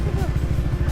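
A motorcycle engine throbs steadily in a fast, even pulse while riding on a road, low and loud throughout the short moment, with the rumble filling the background.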